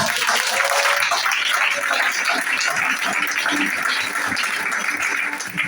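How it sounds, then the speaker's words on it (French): A church congregation breaks into sustained, dense applause and cheering, loud and steady throughout with a wash of many hands clapping together. "Acclamez notre papa."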